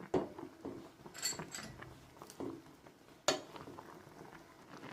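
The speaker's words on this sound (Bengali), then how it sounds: "এইভাবে দু থেকে তিন মিনিট একটু ফুটিয়ে নেবেন" Milk gently simmering with gokul pithe dumplings in a pot, a soft bubbling with faint stirring and clinks against the pan, one sharper knock partway through, low and close.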